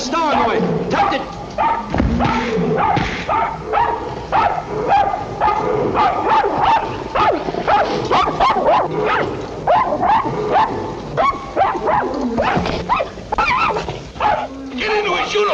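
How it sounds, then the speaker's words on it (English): A dog barks and yips repeatedly in the 1953 film Man on a Tightrope, with sharp close yaps scattered amid busy voices and commotion. "Get this dog away."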